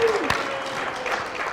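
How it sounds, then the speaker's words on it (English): A live audience applauds host Chris Jacobs with steady, moderately loud clapping for about a second and a half, with a voice talking over it. "a large round of applause for Chris Jacobs"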